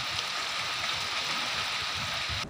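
Heavy rain falls across the hills and plains of Uttarakhand, a dense, even hiss of downpour with no voices over it.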